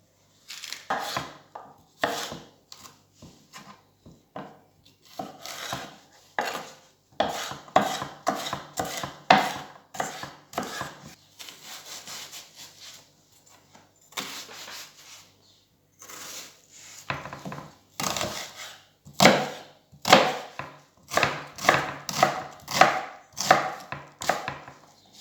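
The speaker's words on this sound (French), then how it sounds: "tailler les poivrons et les oignons, émincer." Knife steadily chopping and slicing bell peppers and onions on a board for a fish paella, a long run of crisp, rapid cuts in bursts with short pauses, close and fairly loud, no talking.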